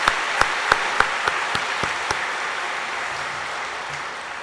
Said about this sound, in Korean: 박수를 한번 또 우리 선생님들을 위해서도 드리겠습니다.